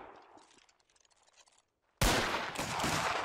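Gunfire erupts in the Anglo Zulu War: Reloaded game, a sudden loud burst of massed rifle volleys breaking in after near silence and continuing as a dense, crackling fusillade.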